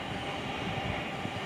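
A Thameslink class 700 train runs on the down Sutton line at Wimbledon, a steady broadband rumble and rail roar holding at a constant loud level throughout.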